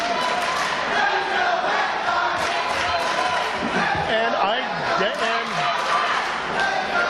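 Crowd at an independent wrestling show, a dense roar of cheering and shouting all the way through, with a commentator talking over it.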